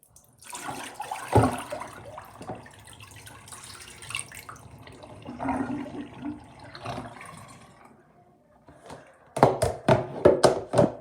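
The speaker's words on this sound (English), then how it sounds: "I drained all the water out." Water splashing and gurgling as it is poured out of a toy, uneven bursts close by, ending in a series of loud clattering knocks.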